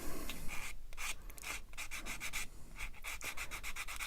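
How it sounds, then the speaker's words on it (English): Close, rough sanding strokes of a coarse, soft, spongy sanding block on a plastic model kit, a rasping scrub repeated in bursts with brief pauses between passes. "I'm going to just use a fairly coarse sanding block, which is quite soft and spongy"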